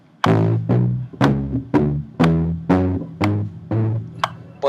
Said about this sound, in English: If it was palm muting, then it would all sound like this.